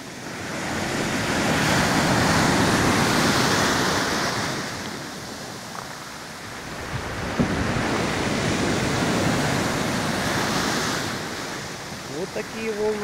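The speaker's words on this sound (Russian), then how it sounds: "Такие волны в Сухуми" Sea waves roll in at Sukhumi, Abkhazia, a continuous broad surf wash that swells and recedes, with wind buffeting the microphone throughout.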